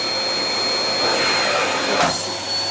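A 700W Amazon Basics bagless cylinder vacuum cleaner runs steadily and loudly throughout, a constant whining roar with a brief surge in pitch near the end, no voices.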